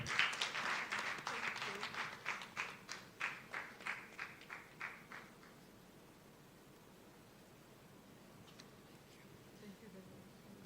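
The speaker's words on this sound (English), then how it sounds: "I will want another round of applause for her." Audience at a conference session in a village tent applauding, a faint burst of clapping that fades out after about five seconds, then quiet room noise.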